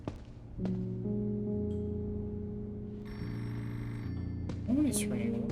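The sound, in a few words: telephone ringing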